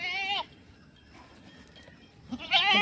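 A goat bleats loudly and close at the start and again near the end, harmonic cries separated by a quieter stretch of faint background noise, while it is held or stuck and straining to get back to its kid.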